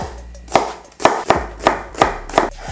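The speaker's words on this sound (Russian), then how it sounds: "Лук нарезаем мелким кубиком" A knife dices an onion on a cutting board in six sharp, evenly spaced strikes, close and clear with quiet gaps between.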